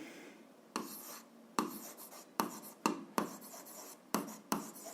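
Pen writing on paper while working an algebra exercise, a series of soft scratchy strokes in irregular bursts, close and quiet, with no speech.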